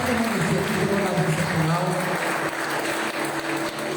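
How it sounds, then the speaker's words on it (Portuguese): A church congregation at a Baptist worship service claps together in a loud, dense wash of applause, with voices and tonal sounds mixed in underneath as it gradually eases off. "Joga a tua mão no alto e aplaude o Senhor."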